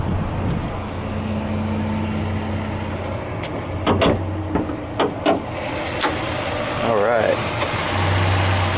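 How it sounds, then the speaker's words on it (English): A 2010 Dodge Charger SXT with a 3.5-liter V6 idles steadily up close, a low continuous hum with a few brief clicks and knocks over it. "Pretty good size V6 right there."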